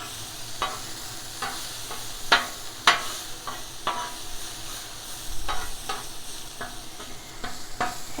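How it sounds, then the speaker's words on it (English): Garlic butter steak cooks on a griddle with a steady sizzle, punctuated by sharp scraping and tapping of a spatula at irregular intervals, close and fairly loud, with no talking. "cook a steak on the griddle"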